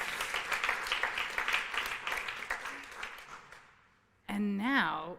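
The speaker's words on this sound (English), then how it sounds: "Everyone, please, applause." Audience applause for the finalists at a closing ceremony, a strong burst of clapping that tapers off over about four seconds before a voice starts speaking.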